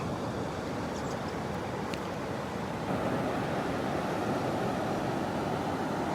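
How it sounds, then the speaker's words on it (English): Steady surf rushes and roars from ocean waves breaking on shore at Pawleys Island on a foggy winter morning, a continuous broadband wash that swells slightly midway. "Look at the waves this morning."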